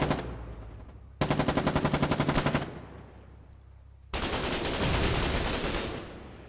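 Gunfire in the war game Foxhole: a rapid, loud burst of automatic shots, a quieter pause, then a longer, denser barrage of fire.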